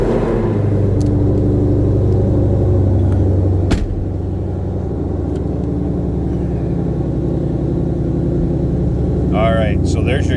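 A 2022 Ford Mustang Shelby GT500 coupe's engine catching and settling into a deep, steady idle rumble, heard close and continuous throughout.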